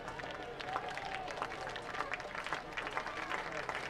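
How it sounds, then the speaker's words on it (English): A college softball crowd cheers and claps steadily throughout, a dense wash of applause and voices urging on the pitcher with two strikes on the batter in the first inning. "The crowd trying to urge Kavan on to get the last out here in the top of the first inning."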